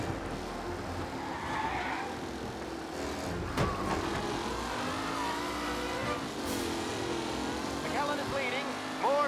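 Racing cars roar through a race in Mafia: Definitive Edition, engines droning steadily with shifting revs and a brief skid, while a voice talks over the continuous engine noise.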